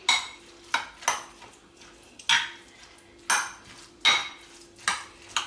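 A utensil scrapes and taps against an ovenproof dish in quick repeated strokes, mixing egg and salmon salad ingredients up close at an uneven rhythm.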